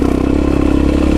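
Honda Tornado motorcycle with a Belparts exhaust, a loud, close engine roar with rapid pulsing exhaust throb held throughout the short burst, no speech.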